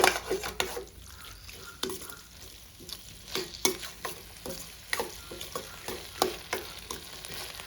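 Tomatoes and onions sauté in a pan over a low flame, a soft sizzle running underneath irregular clinks and scrapes of a stirring spoon against the pan, close up and without speech.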